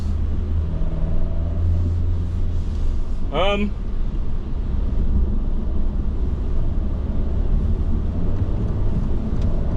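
A 2023 Alfa Romeo Giulia TI under hard acceleration gives off a steady, loud low engine and road rumble with wind noise throughout, and a brief rising whine-like chirp partway through.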